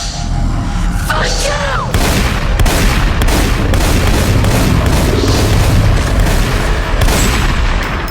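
Rapid bursts of gunfire, apparently from a shooter game, crack and boom loudly over a constant dense roar, with a few sharper reports standing out through the stretch.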